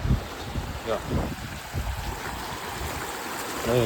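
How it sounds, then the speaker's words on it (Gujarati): Rainwater runoff rushes steadily nearby after heavy rain, a broad, continuous noise, while a voice speaks over it intermittently. "કેટલું પાણી જાય મિત્રો અહીંયા"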